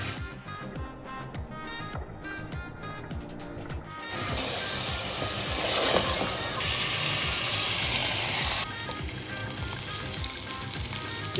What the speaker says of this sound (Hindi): इसका मिर्चें मैं फ्राई करके रख रही हूँ।